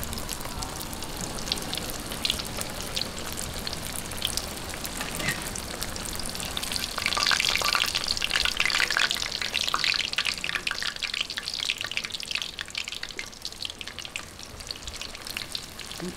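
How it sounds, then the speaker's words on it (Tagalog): Banana rolls fry in hot cooking oil, giving a continuous dense sizzle and crackle that swells louder partway through and then settles, close by and with no speech. "prituhin na natin ang masarap na banana roll"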